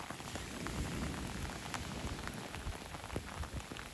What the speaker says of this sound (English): the rain is awful